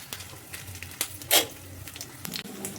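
Paneer cubes frying in a hot pan give a soft, intermittent sizzle, with a brief louder crackling burst near the middle and light stirring scrapes, fairly close and with no voices.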